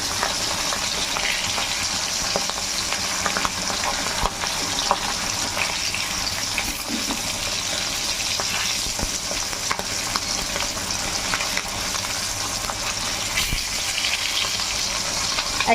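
Hilsa fish pieces frying lightly in mustard oil make a dense, steady sizzle and crackle with frequent small spits and pops, close and loud.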